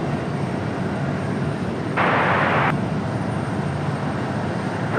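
An airliner takes off from runway 23 right at Raleigh-Durham airport, a steady distant jet roar with a brief brighter burst of noise partway through, no talk over it.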